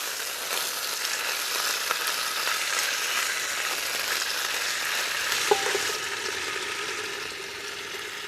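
Drained wood ear mushrooms stir-fried over high heat give a dense, continuous sizzle with an occasional small clack of a utensil, close and steady throughout.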